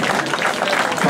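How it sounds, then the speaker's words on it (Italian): Steady applause from a crowd at a goat show during an awards announcement, many hands clapping at once in a dense, even wash, fairly loud and close throughout the short span. "quindi grande applauso."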